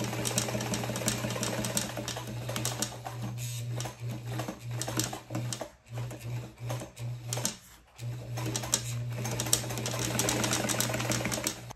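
A walking foot sewing machine topstitches through four layers of fabric, producing a fast, even mechanical clatter over a steady motor hum, with a few short pauses partway through.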